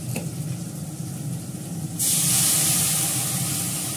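Hot water hits a pan of small green chillies cooking on the stove, a sudden loud rushing sizzle and hiss that bursts in midway and keeps steaming steadily to the end.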